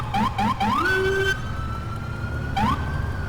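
A police siren on an NYPD Chevy Impala in GTA 4 chirps in short rising yelps, then holds a steady wail before yelping again, loud and close.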